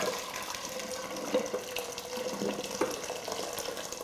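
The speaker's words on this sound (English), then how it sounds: "Now I'm going to half fill this pot up with the saucer in it with boiling water out of my kettle." Boiling water from a kettle pours steadily into a pot holding a saucer, a continuous close-up splashing stream in a home kitchen while a Christmas pudding is being prepared.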